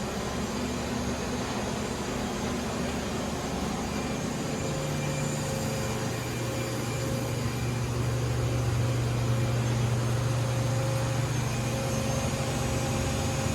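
Doosan Lynx 220LC CNC turning center with its spindle running at 1500, a steady hum and broadband whir in a shop, with a tone rising partway through, constant and unbroken.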